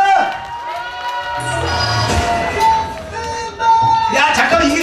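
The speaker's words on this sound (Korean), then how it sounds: "준비됐으면 다시 한번 더 박수!" A crowd at a festival comedy-and-song show claps and cheers loudly, with whoops and shouts rising over steady applause while a performer's voice carries through.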